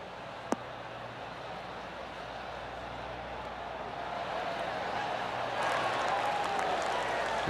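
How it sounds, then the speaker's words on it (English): Golf crowd applause in a video game after a fairway approach to the 18th green, a broad steady wash of clapping that swells gradually from moderate to fuller over several seconds, with a brief click near the start. "That deserves a golf clap."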